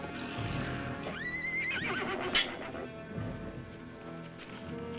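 A horse neighs once, a rising, quavering whinny over a soft rumbling background, with faint hoof clops nearby.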